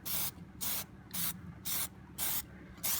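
Plasti Dip aerosol can spraying onto Ford Mustang trim in six even, quick bursts of hissing spray separated by short pauses, close and loud with no talking.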